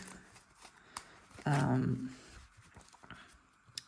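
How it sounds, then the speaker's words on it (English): A deck of trading cards is given one quick shuffle, a brief riffle burst in the middle of an otherwise quiet tabletop scene. "Then we'll just give this a good shuffle."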